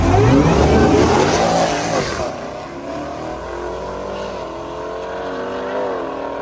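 Two Jeep Trackhawks drag racing at Yellow Belly Dragstrip roar at full throttle, loud and close at first, then the engine noise drops to a steadier, more distant drone as they pull away down the strip.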